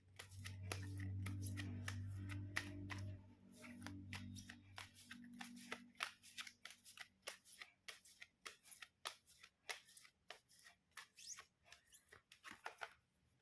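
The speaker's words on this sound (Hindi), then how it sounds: "मैं एक कार्ड यहाँ निकाल रही थी और दो दो कार्ड जो है वो यहाँ आ गए हैं" Tarot cards are shuffled and drawn, starting with a low rumbling riffle and then moving into a long run of crisp, quick card flicks and snaps. The sound is close and fairly quiet, with no talking.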